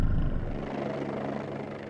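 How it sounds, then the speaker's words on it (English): A helicopter sits on the ground at Hartland Heliport with its rotors turning, giving a steady low droning rumble with a rhythmic throb that holds evenly throughout. "When the helicopter is on the ground, the rotors will be turning."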